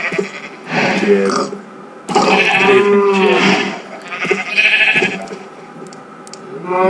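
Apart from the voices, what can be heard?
sheep bleating in the video game Minecraft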